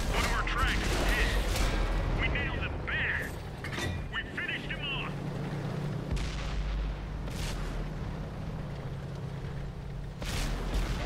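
Booming artillery fire and mechanical rumble in a tank warfare video game set around the 4th Armored Division, with heavy blasts under constant battle noise and voiced in-game chatter.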